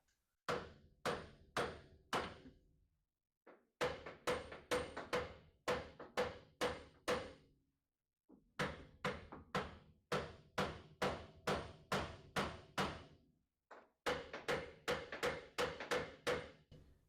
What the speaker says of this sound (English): let's also try the other trick of hammering around it